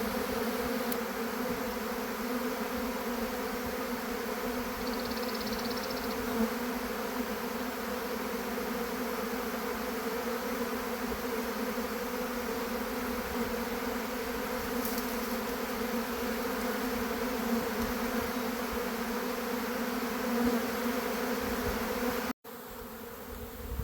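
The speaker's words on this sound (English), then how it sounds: "These bees are really starting to ball up now on this fence." Honeybees from a swarm clustering on a fence hum in a continuous, dense drone that holds steady and fairly close throughout, with no voices over it.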